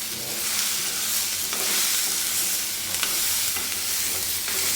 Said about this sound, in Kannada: ಇದೆಲ್ಲ ಚೆನ್ನಾಗಿ ಫ್ರೈ ಆಗಬೇಕು